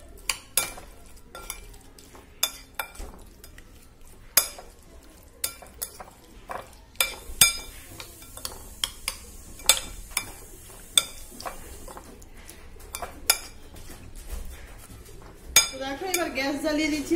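A utensil mixes spices and a little turmeric powder in a bowl for prawn malai curry, with repeated clinks and taps against the bowl at a fairly even pace, close and crisp over a quiet room.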